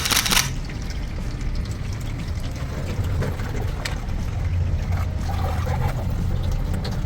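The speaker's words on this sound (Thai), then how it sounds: "เสียงน้ำไหลลื่นเลยนะครับ" Steady rushing and trickling of water through a Toyota Vellfire sunroof drain runs continuously, with low churning and splashing throughout, fairly loud and close, no voices.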